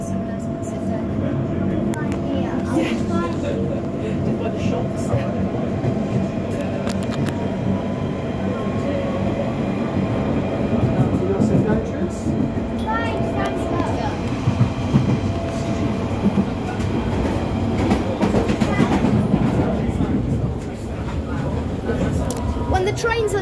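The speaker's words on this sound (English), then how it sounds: "This is a central line train to London." A London Underground Central line train between North Acton and Notting Hill Gate rumbles and clatters steadily throughout, loud and close, with a constant roar and occasional squeals, voices faintly mixed in.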